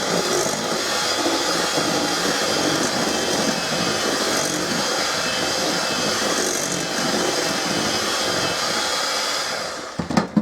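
Electric hand mixer beating egg yolks into butter cookie batter, a steady loud whirring drone that runs unbroken for about ten seconds before cutting off with a few knocks.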